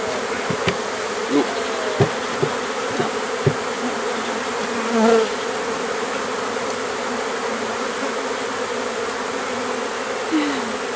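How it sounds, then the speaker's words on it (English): Bees buzz densely and continuously around beekeepers working an open hive, a close, steady drone with individual insects flying past the microphone. Occasional soft knocks are heard, with no talking. "I've got a few bees on me."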